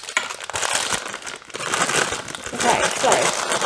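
A plastic packet of sultanas crinkles and rustles loudly in irregular bursts while muffin batter is weighed out in a kitchen, the crackling dense and continuous throughout.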